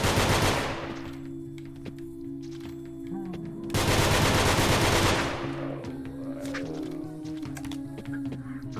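Gunfire in the video game Nongunz comes in two long rapid bursts of machine-gun-like fire, loud and dense, separated by quieter stretches with game tones and a low droning hum.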